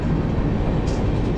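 Jallianwala Bagh Express train departing, heard as a loud, continuous close-up rumble of wheels and carriages, steady and unbroken, with no talk.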